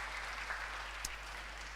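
Congregation applause during a Sunday church sermon, a steady broadband wash of clapping from a gathered crowd, fairly faint and even throughout the short stretch with no talking.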